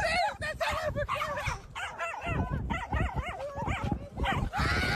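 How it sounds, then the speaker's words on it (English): A small dog yips, whimpers and barks relentlessly in a quick, high-pitched string of close calls, with a voice mixed in. "That dog is relentless."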